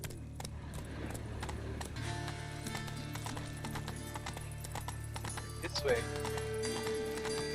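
Hoofbeats of Roach, Geralt's horse in The Witcher 3 video game, clopping steadily at a walk beneath music and other game sounds, with a voice speaking briefly.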